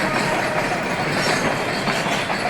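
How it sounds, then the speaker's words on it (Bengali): A long train rolls past in Bangladesh, a steady loud rush of wheels and carriages with faint clickety-clack running without pause, close by and alone. "এই যে ট্রেনটা কত বড় ছিল, আর এখন এটা চলে যায়।"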